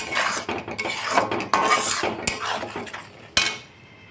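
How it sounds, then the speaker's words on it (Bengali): A spatula scrapes and clanks against a pan as spice paste for a prawn dish is sautéed until oil separates, with repeated close strokes and a couple of sharp metal knocks. "এবার ভালো করে মশলাটা কষিয়ে নেব যতক্ষণ না মশলা থেকে তেল ছেড়ে আসছে।"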